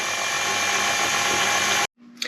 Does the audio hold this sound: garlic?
no